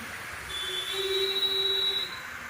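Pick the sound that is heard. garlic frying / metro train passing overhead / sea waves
metro train passing overhead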